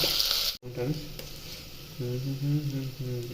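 Onions frying in a pan with ginger and turmeric, a soft sizzle with stirring, heard under someone speaking, with a brief cut partway through.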